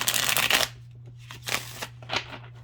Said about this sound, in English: Longer tarot cards would be impossible to shuffle like this.